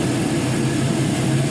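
A used 5.3L LS V8 with 140k miles idling steadily in hot weather around 90 degrees, a dense continuous low rumble with an even, unchanging drone.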